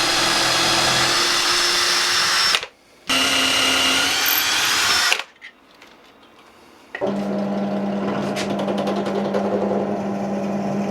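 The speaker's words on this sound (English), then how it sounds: "quickly gave up and moved on to my drill press for more accurate holes" Drill press boring dowel holes in wood, a steady loud motor whine in bursts separated by short pauses, each run resuming at a fairly constant pitch with no talking.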